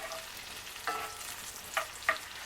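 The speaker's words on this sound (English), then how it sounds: "let's get this stirred a little bit" Food fries on high heat in a pan, a soft steady sizzle broken by a few brief scraping stir strokes, no talk.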